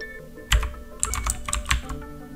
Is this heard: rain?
no